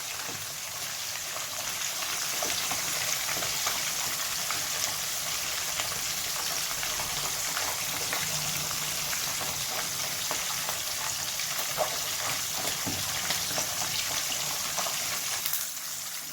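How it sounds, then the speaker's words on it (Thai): Mackerel fries in hot oil in a pan, a steady loud sizzle and crackle with fine popping that runs throughout with no talk. "ทอดทีละด้านไปเลยนะครับ ไม่ต้องพลิกบ่อยนะคเพราะพลิกบ่อยแล้วเดี๋ยว หนังปลาทูมันจะเละนะครับผม"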